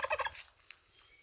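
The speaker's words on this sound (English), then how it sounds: "Turkeys are making lots of noise today." A turkey gives a quick rattling gobble, a close burst of several rapid notes, followed by faint background noise.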